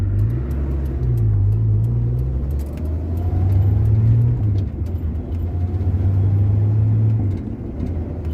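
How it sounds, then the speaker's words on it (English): Steady road traffic rumble heard from a Ford Mustang, cars passing close by, engine drone rising and falling over several seconds, no voices. "there's a car coming behind me"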